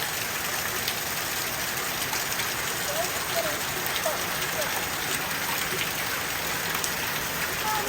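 Steady rain pours down outdoors as a dense, even hiss of drops hitting the ground and nearby surfaces, continuous and fairly loud throughout, with no voices standing out.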